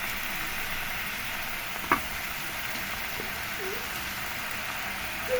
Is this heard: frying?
yes